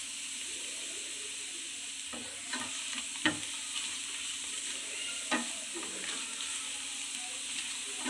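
Garlic fries in a pan for garlic chilli chicken, a quiet continuous sizzle broken by a few sharp stirring scrapes and clicks.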